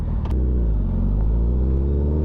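Motorcycle engine rumbling steadily and close on a cold 45-degree morning ride, a deep continuous low drone with a brief clatter near the start.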